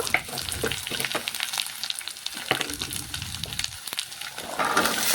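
Onions frying in a pan give a steady sizzle, joined by potatoes, aubergine and peas being tipped in and stirred for a Bengali broccoli vegetable dish, with louder crackling bursts near the end.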